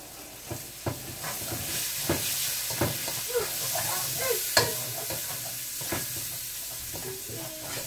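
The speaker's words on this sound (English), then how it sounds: "You gotta keep stirring this so it could fry up properly." Curry pork frying in hot oil, stirred with a spoon: a steady close sizzle with repeated scraping and clacking strokes against the pot, no talking.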